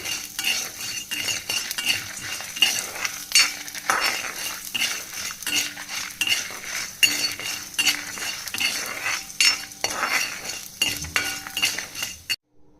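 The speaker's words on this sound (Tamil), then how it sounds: "பொன்னிறமாக வர வரையிலும் நல்லா வறுத்துப்போம்" Steady scraping and stirring in a pan with light metallic clinks as peppercorns are roasted until golden, continuous and fairly close.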